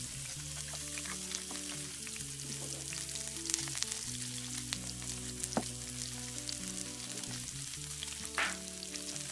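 Sesame-seared salmon sizzles in a hot pan, making a dense, steady crackling with occasional louder pops and light stirring. Soft background music plays underneath.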